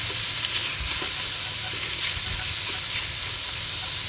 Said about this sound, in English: we are just going to throw the cut up steak, and we are just going to basically get it hot